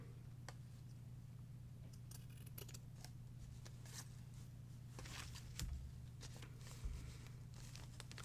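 Scissors snip through material in a quiet room, a series of soft, crisp cuts spaced irregularly with faint handling noise between them.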